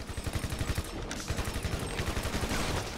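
Rapid bursts of gunfire ring out in the online multiplayer game GTA V Online, a steady rhythmic string of shots running almost without pause, moderately loud.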